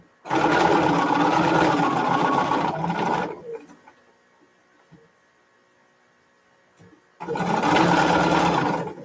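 Sewing machine stitching fabric face masks, a loud steady whirring run of several seconds, then quiet with faint clicks and hum, then the motor starting up again for another steady run.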